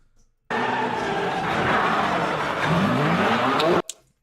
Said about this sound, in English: I want to hear how the car sounds.